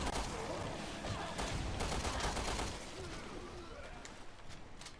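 Rapid gunshots in Resident Evil: Revelations 2 crackle in quick succession at fairly low volume, then thin out to scattered shots, with quiet voices talking underneath.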